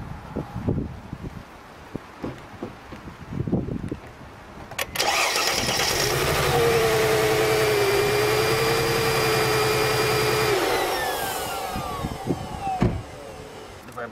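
Car engine with one ignition coil unplugged, starting after quiet handling noises and then running in a loud steady idle for several seconds before shutting off.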